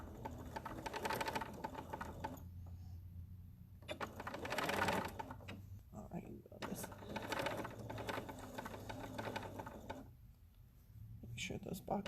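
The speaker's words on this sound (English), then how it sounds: "I like to sew from the tops to the folds." A sewing machine runs in bursts, stitching box-pleated batik fabric for a face mask, with short pauses between runs; the motor hum and needle chatter are close and fairly loud.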